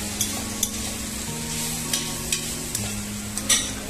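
A spatula scrapes and stirs bitter gourd chutney in a pan that had been kept covered, a soft steady sizzle running underneath with a few light clinks.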